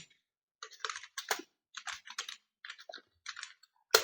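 Keys clack in short irregular bursts on a computer keyboard during spreadsheet data entry, close and crisp, with brief pauses between words and a sharper final tap, no talking.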